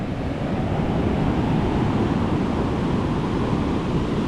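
Rising tide waves on a shore, a steady, loud wash of surf and rumbling water mixed with wind buffeting the microphone, continuous without pauses or voices.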